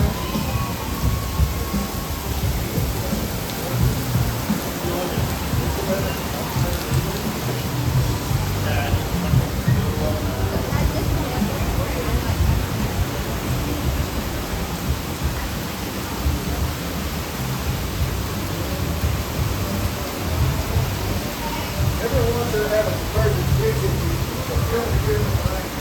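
Heavy rain pours steadily through a big thunderstorm, a dense, constant roar close by with low rumbling mixed underneath across the whole stretch.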